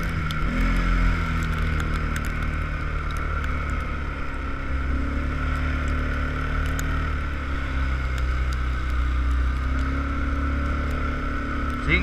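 A Kawasaki KVF 360 ATV engine runs quietly at a steady idle outdoors, a low, even hum holding for the whole stretch with faint wind and no talking.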